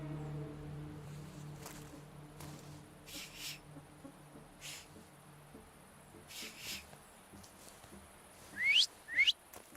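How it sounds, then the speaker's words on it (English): Two short rising whistles from a person near the end, after quiet background noise with a few soft bumps. "So, have you mastered whistling?"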